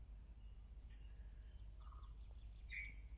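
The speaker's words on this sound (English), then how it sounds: "You can hear the birds." Birds sing faintly in a very still garden, a few scattered chirps and short calls spaced apart over a low, steady background rumble.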